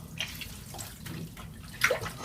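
Bathwater splashes and trickles as a baby girl is rinsed, soft intermittent sloshes with a brighter splash near the end, quiet and close with no talk.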